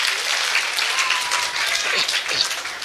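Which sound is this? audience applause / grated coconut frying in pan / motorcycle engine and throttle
audience applause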